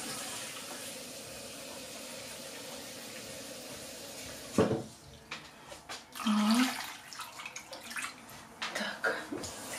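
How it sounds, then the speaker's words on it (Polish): Water splashes and gurgles into a 5-litre pot in bursts while covering pumpkin pieces, with clattering of metal between pours, fairly close and moderately loud. "Zalewamy wodą. Ja zalewam wodą."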